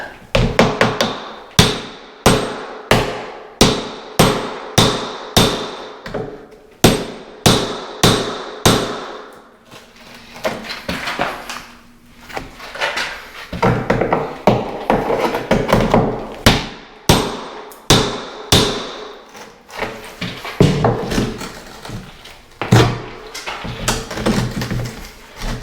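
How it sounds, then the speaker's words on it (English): A hammer drives a chisel into a bathtub during demolition, giving loud, close, sharp strikes in steady rapid bursts with brief pauses between runs. No one speaks. "I'm just using a chisel and a hammer."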